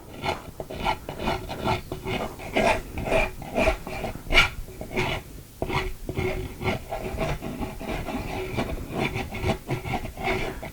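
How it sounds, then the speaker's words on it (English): A rat tail file rasps in quick repeated strokes over a workpiece on a DIY weather station build, giving a steady scratchy rhythm up close with no voices. "I use a rat tail file"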